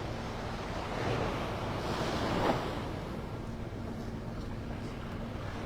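Surf washes steadily onto the beach at Delnor-Wiggins in North Naples, Florida before sunrise, a soft continuous roar with one swell of a breaking wave and light wind buffeting the microphone.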